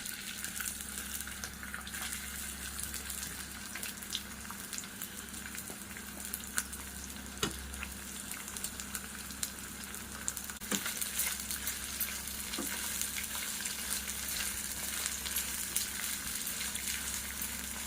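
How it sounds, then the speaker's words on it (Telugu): Washed tamarind leaves fry in hot oil in a kadai for a nethallu curry, with a soft, continuous sizzle and crackle and occasional faint clinks of stirring, fairly quiet and with no talking. "ఇప్పుడు మనం శుభ్రంగా కడిగిన మెత్తళ్ళు వేసి వేపుకుందాము."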